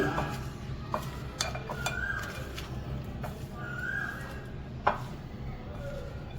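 Champaran handi mutton is stirred in a pot, giving scattered faint scrapes and knocks of a utensil against the vessel over a low background rumble, with one sharper clack late on.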